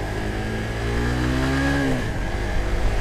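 A Suzuki GSX-R150 DOHC motorcycle engine revs hard through the upper RPM range, its pitch climbing steadily for about two seconds before dropping away, loud and close throughout.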